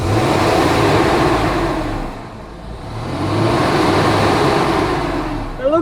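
A car engine, its serpentine belt just replaced, revs up under throttle, dips briefly and rises again, loud and close, with brief talk near the end.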